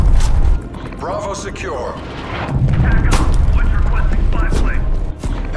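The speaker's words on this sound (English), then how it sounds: "Incoming artillery" Incoming artillery in Call of Duty Cold War, a Domination match on Moscow, lands as repeated deep booms and rumbling blasts, loud and close, under radio-style voice callouts.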